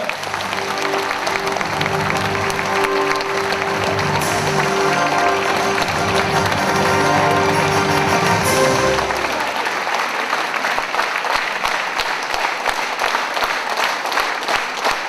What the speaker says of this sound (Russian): Давайте мы бурными аплодисментами поприветствуем.